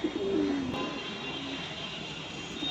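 A pigeon gives a low cooing call near the start, followed by fainter coos against a steady background hum.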